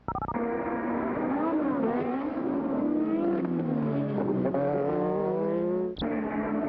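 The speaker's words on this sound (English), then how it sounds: "The cars you're looking at are Michele Alboreto and the Ferrari with Alain Prost tucked in behind them" Formula 1 race cars at the 1986 French Grand Prix, including a Ferrari, scream past with a continuous high-revving engine whine that rises and falls in pitch, loud and close throughout.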